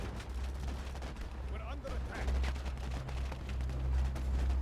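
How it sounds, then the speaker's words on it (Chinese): Machine gun and flamethrower fire rattle in the real-time strategy game War Alert during a 4v4 match, with rapid bursts and booming impacts over a low rumble while a commentator talks throughout. "生的喷火器都没打赢，可能是前期吃到221一些伤害，机枪很危险，机枪被按倒。"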